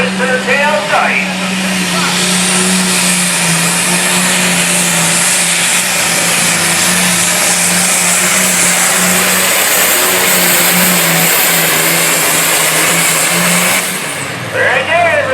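A super stock class pulling tractor roars at full throttle during a tractor pull, a loud, steady high-pitched engine howl holding for over ten seconds before dropping off near the end.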